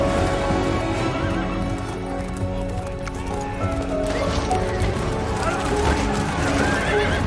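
Horses neigh and gallop in a Pirates of the Caribbean film scene, a loud whinny over continuous pounding hoofbeats, with dramatic score and a narrator speaking over the action.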